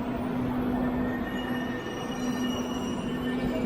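A train between Wenzhou and Hangzhou, Zhejiang, China, rolls steadily along the rails with a constant rumbling roar and a thin high tonal whine running through it, close and continuous.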